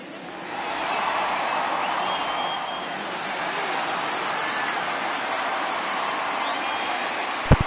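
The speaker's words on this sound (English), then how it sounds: "What a great crowd out there." Stadium crowd in a PS4 baseball video game roars in a steady, broad wash of cheering that swells early and holds throughout, with a brief sharp knock near the end.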